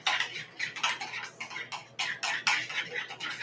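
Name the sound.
stirring seasoning into food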